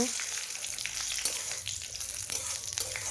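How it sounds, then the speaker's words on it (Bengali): Whole cloves, dried red chillies, cumin seeds and bay leaves tempering in hot oil for Bengali ghugni, a bright continuous crackle and sizzle close by, with a few stirring scrapes. "লবঙ্গ গরম তেলের মধ্যে ফোড়নে দিয়েছি, আর সাথে দিয়েছি শুকনো লঙ্কা, জিরে আর তেজপাতা।"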